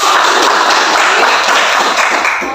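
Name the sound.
class clapping hands in applause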